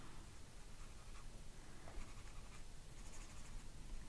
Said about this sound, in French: Je vais colorier l'intérieur.